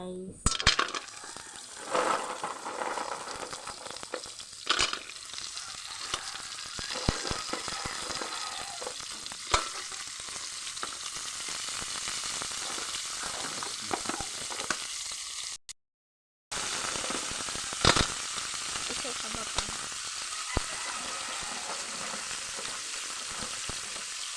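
Shellfish from a Talisayan beach meal frying and sizzling in a pan with onion, a steady dense hiss broken by clinks and stirring, with a brief drop to silence partway through.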